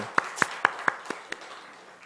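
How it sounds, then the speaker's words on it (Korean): A small church congregation gives a short welcoming applause, about six distinct hand claps that fade quickly, close and fairly quiet. "우리 한번 환영의 박수 한번 보내겠습니다"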